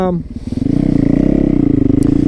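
Close, loud supermoto motorcycle engine with a rapid pulsing thump that settles into a steady throbbing run, with a brief voice at the start.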